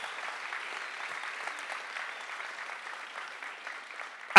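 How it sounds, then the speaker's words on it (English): Audience applause at a science slam in Berlin, a soft, even patter of many hands clapping at a distance that holds steady, then ends in a sudden loud knock. "great applause for Achim."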